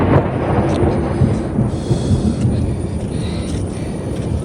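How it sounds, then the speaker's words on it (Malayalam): Thunder during a rainstorm by a river rumbles low and heavy, a loud rolling boom that swells and fades over a few seconds with no talk. "ഇടി വിടണു."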